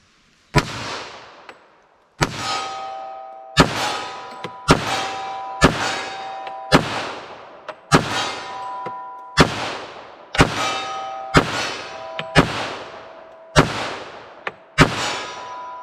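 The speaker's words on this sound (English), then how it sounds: "I'm going to run some rounds at my steel from about 25 yards up there and see if the mag drops." Glock 41 pistol fired at steel targets about 25 yards away, a dozen sharp shots at a steady pace, each followed by a ringing metallic clang from the plates, close and loud with no talking.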